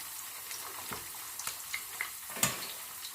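Pork belly for sisig frying in a covered pan, a soft continuous sizzle punctuated by small pops and spits, close but quiet.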